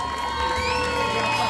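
A crowd cheers and shouts for an under-15 youth football team, Follonica Gavorrano, at a team presentation; sustained, fairly loud cheering and whoops with a tonal ring running under it.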